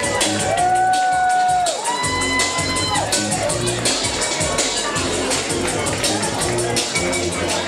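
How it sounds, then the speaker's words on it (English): Boxing-night crowd cheering, whooping and shouting for the referee at a live fight event, a loud continuous roar of voices with long whistles and shouts rising over steady crowd noise. "Can we also have a big round of applause for our referee tonight"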